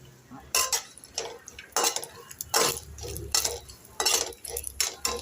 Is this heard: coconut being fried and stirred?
yes